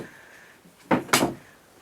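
Long real-wood storage drawer under an RV dinette seat in a 2018 Forest River Cherokee 274DBH travel trailer, with two quick close sliding thumps a moment apart against a quiet background.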